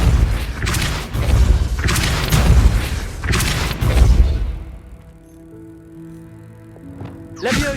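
Depulso force spell cast in Hogwarts Legacy, a series of heavy booming thumps and impacts that fade into a quiet magical shimmer, ending with a brief whoosh.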